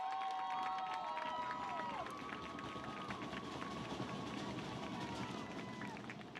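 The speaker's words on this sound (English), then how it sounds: "you can hear the noise of the crowd here, watching a beautifully played soccer game by 2 top OEC teams" Crowd noise from spectators at a college soccer match between Saddleback College and Cypress: a low, distant murmur of voices, with several thin sustained tones running over it in the first few seconds.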